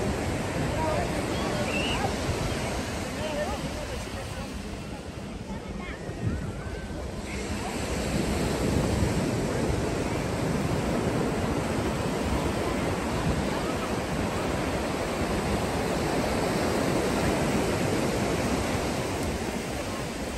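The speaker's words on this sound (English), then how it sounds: "I'll let you guys enjoy the ocean sound now for a couple of minutes" Ocean waves and surf washing in at Laguna Beach, a steady, loud roar of broken water with rolling swells and some wind across the microphone, continuous throughout with no voices.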